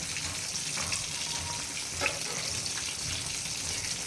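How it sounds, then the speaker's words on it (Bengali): Water pouring off steamed hilsa fish into a sink, a steady splashing rush with a faint sizzle beneath and a brief clink partway through. "হালকা একটু ভাপ দিয়ে পানিটা ফালাই দিতে হইব।"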